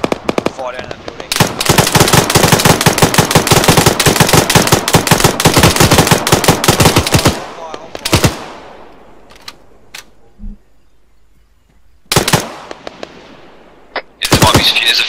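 Dense rapid automatic gunfire from the Arma 3 military shooter game, loud, continuous bursts for several seconds, then a pause and scattered single shots and a short final burst, close and sharp.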